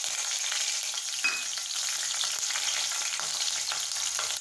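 Cut green chili fries in oil in a pan, a close, continuous sizzling hiss with crackles, a few brief pops and stirring scrapes.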